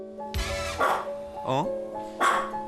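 A Maltese dog barks indoors at home, several sharp yappy barks in separate bursts with short gaps between them, loud and close.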